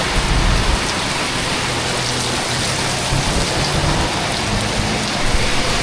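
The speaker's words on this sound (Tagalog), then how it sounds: "Lakasan ng ulan guys" Heavy rain pours down in a dense, steady hiss with a low rumbling undertone, loud and unbroken throughout with no voices.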